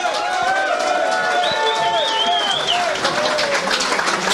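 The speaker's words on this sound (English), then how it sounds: "a big round of applause here as Saunders is going to present" Crowd applause and cheering at the trophy presentation for the 2023 IFMAR 1/8 Nitro On-Road World Championship, steady and full for several seconds, with whistles and voices rising over the clapping.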